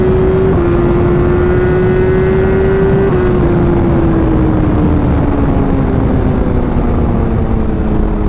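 BMW M1000R motorcycle accelerating hard in third gear, a loud, continuous engine roar with the pitch climbing steadily and dipping at a shift, heavy wind buffeting throughout.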